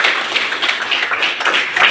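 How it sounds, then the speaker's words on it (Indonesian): A classroom of students claps together during a lesson, a dense, continuous patter of many hands lasting a couple of seconds at moderate loudness with no talking. "Tepuk tangan untuk kita semua."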